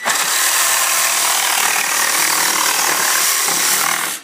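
Metabo 18 volt cordless jigsaw, STA 18 LTX, with an aggressive blade cutting through wood and the dust blower switched off: a loud, steady, buzzing saw drone that runs unbroken for several seconds before cutting out.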